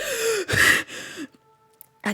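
A sharp, breathy gasp sounds close up, followed by a softer exhale and quiet hum, then another quick intake of breath.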